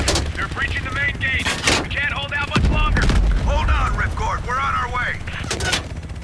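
Gunfire in Call of Duty: Black Ops Cold War, repeated rifle shots and bursts with a heavy boom, loud and close, with in-game radio chatter and other game voices running throughout.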